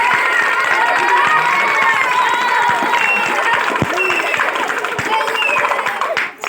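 Children clap among a lively village crowd in Punjab, quick rhythmic claps mixed with chatter and raised voices nearby.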